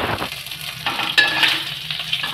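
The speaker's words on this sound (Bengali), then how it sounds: "আরো মিনিট খানেক ভাজবো।" Green chilies and browning mung dal frying together in a pan, a close steady sizzle with scraping stirs and a sharper clink partway through.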